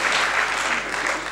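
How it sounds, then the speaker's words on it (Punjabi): Audience applause at a Pakistani comedy stage drama, a dense steady wash of clapping holding at an even level for the whole moment, fairly close and full, with no break. "ਖੁੱਲ ਕੇ ਤਾੜੀਆਂ ਮਾਰੋ"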